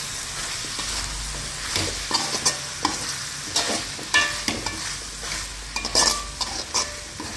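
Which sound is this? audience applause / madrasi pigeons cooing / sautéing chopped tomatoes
sautéing chopped tomatoes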